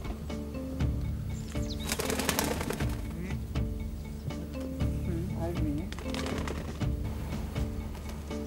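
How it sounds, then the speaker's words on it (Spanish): A hooded wood pigeon decoy flies up during a pigeon hunt in Spain, its wings beating in rapid bursts of flapping with bird calls nearby. "El cimbel se mueve y la paloma encaperuzada vuela ya."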